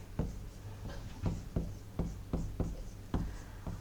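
Chalk or marker strokes on a classroom board, a string of short scratchy taps and swipes in an irregular rhythm, close and clear over a steady low hum, with no voices.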